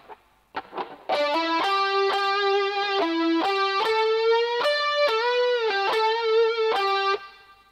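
A distorted electric guitar plays a live outro lick at a moderate pace, a string of sustained, saturated single notes with bends and slides, close and loud, rising and falling in pitch before ringing out.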